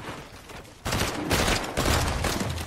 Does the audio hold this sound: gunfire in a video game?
yes